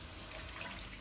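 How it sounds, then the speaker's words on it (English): Water pours steadily into a cooking pot for a Chinese shrimp and tofu dish, a faint, even splashing rush heard close with no voices. "We'll now add in some water."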